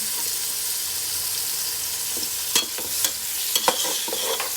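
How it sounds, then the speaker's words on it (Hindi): Tomatoes and green chilies hit sizzling garlic in a pan for chicken pasta, a steady frying hiss broken by several sharp stirring scrapes and clatters near the end. "अब हम इसके अंदर अपना एक अदर टमाटर ऐड कर देंगे, थोड़ी सी हरी मिर्चें ऐड कर देंगे।"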